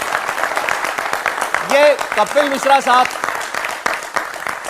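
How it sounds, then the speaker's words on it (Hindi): Studio audience applause greets a BJP politician arriving as a guest on a Hindi TV talk show, a steady clapping wash running beneath the host's continuous voice. "जोरदार तालियों के साथ स्वागत करें।"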